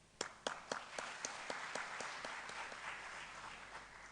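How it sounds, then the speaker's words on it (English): An audience at a pro-life, pro-family side event gives a round of applause. It starts with a few separate sharp claps and swells into dense, steady clapping heard from a little distance. "join me in doing another big clap for Family Watch"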